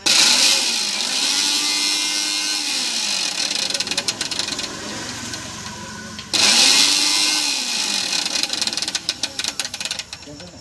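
An electric mixer grinder runs with its jar fitted after a coupling replacement, a steady whining motor hum that cuts out briefly near the middle and starts up again, with rattling and clicking throughout.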